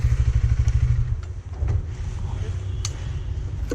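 A KTM Duke 250 motorcycle at a petrol station, its engine loud and close with a throbbing low idle that fades slightly, followed by clatter and light knocks, with a voice talking briefly.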